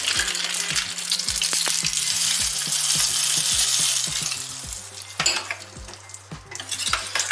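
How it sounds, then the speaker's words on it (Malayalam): Hot tempering with curry leaves pours into a Kerala chickpea curry, setting off loud, continuous sizzling and frying up close, with a steady low hum and several sharp clinks of a metal utensil against the pan. "ഇനി നമുക്കിത് ഈ കറിയിലോട്ട് ഒഴിച്ച് വെക്കാം."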